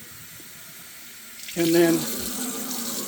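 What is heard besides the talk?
cold tap water filling a jar of onions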